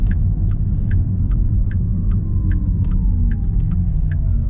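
Porsche Taycan electric drive whine during acceleration, a loud continuous hum with a synthetic tone sweeping smoothly in pitch, over steady road rumble and faint regular clicks.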